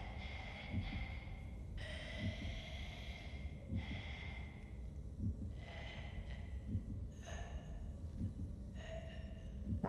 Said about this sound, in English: Why is she breathing like that?